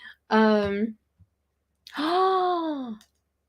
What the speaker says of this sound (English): I'm yawning already on my own stream.